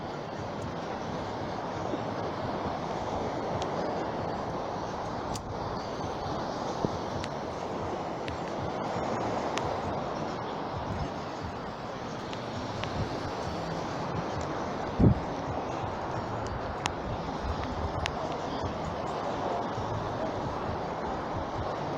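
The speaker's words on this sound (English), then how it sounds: "Now you can hear the shore, the sea behind me" A continuous broadband wash of sea noise rolls on without pause, steady and moderately loud, with occasional faint clicks on top.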